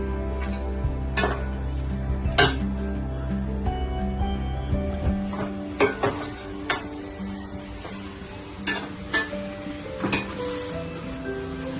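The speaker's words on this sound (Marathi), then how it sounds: "आता आपण इथे तूप टाकलेलं आहे. तूप टाकून भाजतो." Grated carrot halwa roasting in ghee in a pan, stirred with a utensil: sporadic sharp scrapes and clicks at an irregular pace over a soft sizzle and a steady low tonal hum.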